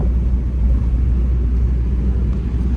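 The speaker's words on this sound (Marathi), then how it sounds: "पूर्ण गाडी दाबत चावा लागू राहिलं हे बघा पूर्ण ऐंशी लॉक चाललंय" A truck engine rumbles steadily while driving at full speed on the highway, about 80 km/h, with a deep, constant drone and road noise and no other sounds.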